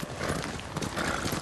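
Horses in the Ghost of Tsushima game wade through cold water, producing a continuous close wash of splashing and clopping hooves in a steady, busy texture.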